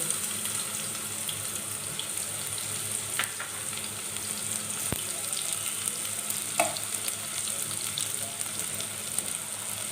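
Chopped onions sizzle and fry in a hot pan while cooking kali tori, a soft steady crackle with a few clinks and stirring scrapes, fairly quiet and close, no voices.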